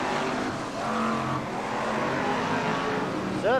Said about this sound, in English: Certainly the cars then going on at a pace in this one.